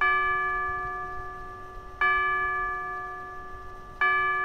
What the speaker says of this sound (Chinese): 钟声，